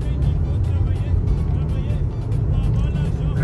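Traffic on a street in Yamoussoukro, Côte d'Ivoire, where orange, white and green taxis pass by, giving a steady, dense engine rumble with passing cars throughout and no clear gaps.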